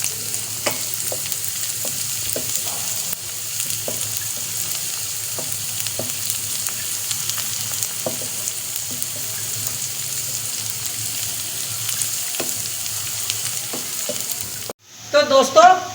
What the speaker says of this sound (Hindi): जब भी प्याज फ्राई करें उसको थोड़ा हिलाते रहें